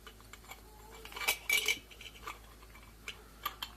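An iron pipe base slides onto a metal mason jar lid with a few light scraping clicks and a brief cluster of metallic clinks, quiet and close, followed by scattered small taps.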